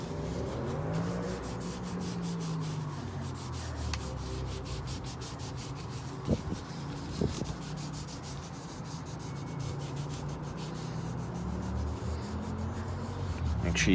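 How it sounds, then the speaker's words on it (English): Cleaning wipe rubbing over a Tesla Model 3 steering wheel, a soft continuous close-up scrubbing and swishing with steady rhythmic strokes throughout. "you're going to clean the area with the wipes that they give you first"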